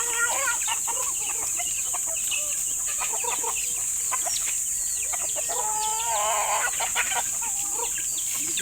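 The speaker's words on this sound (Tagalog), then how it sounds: "magpapakain naman tayo ating mga alagang manok" Backyard pet chickens clucking and calling while being fed, a busy flock close by, with overlapping clucks and squawks and a longer, warbling call rising partway through.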